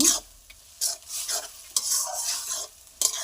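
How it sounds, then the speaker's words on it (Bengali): Taro stems and ground spice paste are stirred and fried in a pan, with repeated scraping sweeps of the spoon over bursts of close, loud sizzling and short quiet gaps, with no voices. "যতক্ষণ কচু শাকটা থেকে জলটা শুকিয়ে না যাচ্ছে ততক্ষণ আমি অল্প অল্প জাল দিয়ে নাড়িয়ে নেব"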